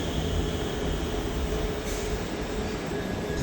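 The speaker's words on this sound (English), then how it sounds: "Ito yung train na puntang Changi Airport." A Singapore MRT train bound for Changi Airport rumbles steadily at close range, a continuous loud roar of wheels and motors with a brief high squeal partway through.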